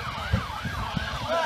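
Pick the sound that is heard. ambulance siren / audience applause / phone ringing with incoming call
ambulance siren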